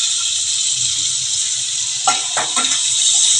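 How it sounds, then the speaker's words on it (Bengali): Black cumin seeds sizzle in about five or six spoonfuls of hot oil, a loud steady hiss crackling close by, with a few brief metallic scrapes of a spoon against the pan midway. "এখন আমি কালো জিরা ফোড়ন দিয়ে দিচ্ছি"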